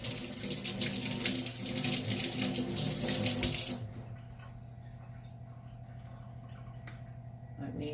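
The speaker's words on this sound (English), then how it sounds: "let me rinse my hands." Water runs steadily from a kitchen tap while hands are rinsed during bagel dough making, loud and broadband at first, then cutting off partway through to leave a quieter room hum.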